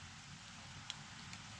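Steady rain falls on a Saturday afternoon: a soft, even hiss with a couple of faint drop ticks, distant and quiet, with no voices.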